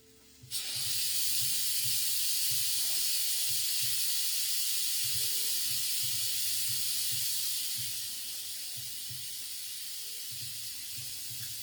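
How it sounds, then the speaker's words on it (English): A pressure cooker full of black beans releases its steam valve with a sudden loud, continuous hiss. The hiss holds steady and eases slightly toward the end, over faint low rhythmic pulsing. "I'm going to release the steam valve on the pressure cooker so I can take the lid off"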